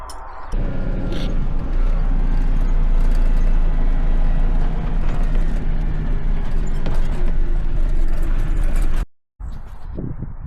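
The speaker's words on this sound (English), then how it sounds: "I'm just going to take these feed tubs down the road just to see how it tows" A farm vehicle towing a trailer loaded with feed tubs down a road, loud steady engine drone with rattling and clanking from the load, continuous for about nine seconds before cutting out abruptly.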